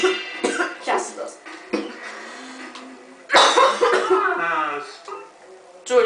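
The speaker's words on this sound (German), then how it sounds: "Oh nein, es geht die Husterei los." Harsh coughs from someone with a cold come in a close, loud fit of repeated bursts, with short pauses and breaths between them.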